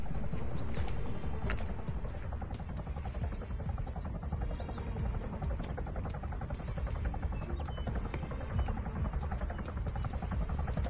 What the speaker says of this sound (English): Chinook inbound.